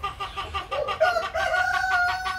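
A chicken clucks and crows close by, a run of rapid clucks rising into drawn-out, sustained calls with no talking.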